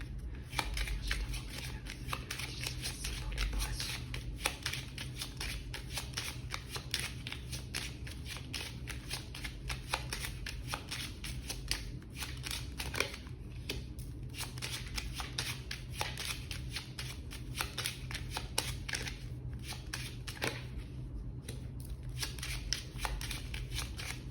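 A 32-card deck shuffled by hand for a card reading, repeated riffling and sliding of cards in a steady, close run with no talking.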